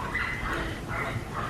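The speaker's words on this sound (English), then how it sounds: "dogs a few houses down are angry about something" Dogs bark and yip faintly a few houses away in a Florida neighborhood, their muffled calls rising in short bursts over steady outdoor background noise.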